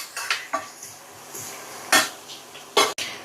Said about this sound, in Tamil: இஞ்சி பூண்டு கொஞ்சம் வறுப்படட்டும்